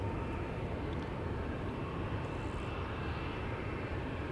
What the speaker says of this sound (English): That would be the KLM 777-300 to Johannesburg.